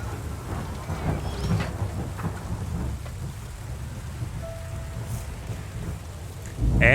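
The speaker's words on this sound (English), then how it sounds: "As the rain starts to fall, once again, that is our cue to leave with a job well done." Steady rain falls in the video game Terra Nil, a dense, even hiss of rain on surfaces with soft low rumbles like distant thunder, continuous throughout and swelling slightly at the end.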